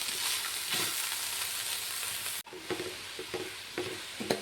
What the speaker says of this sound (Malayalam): അപ്പോൾ ഇത് നല്ലപോലെ ഒന്ന് മിക്സ് ചെയ്യട്ടെ.